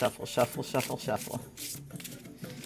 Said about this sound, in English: I will take half the deck and turn it around and then shuffle.